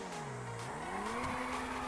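A car drifting in GTA 5, tires squealing in a long wavering screech over a steady engine drone, no voices.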